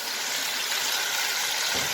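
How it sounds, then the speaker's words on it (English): Water pours steadily into a cooking pot being filled for homemade chicken soup, a continuous close splashing rush lasting throughout with no talk. "Then we'll add the water."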